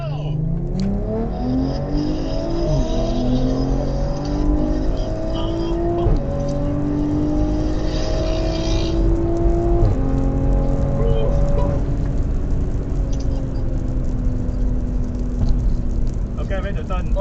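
A BMW M340i launches in a drag race and pulls hard through the gears, its engine rising in long sweeps between shifts, loud and close-up inside the cabin, with voices faintly under it.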